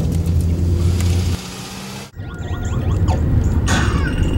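Steady low road rumble and engine drone from inside a moving car, loud and continuous, with a brief dip midway and some faint rattles and higher whines over the top.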